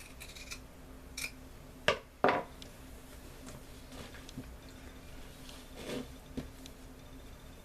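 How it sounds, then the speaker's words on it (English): Scissors snip through the top layer of a sweatshirt to make a slit, giving two sharp close cuts close together near the middle, with softer fabric rustles and small handling taps before and after. "So I'm just cutting the top layer and making a slit."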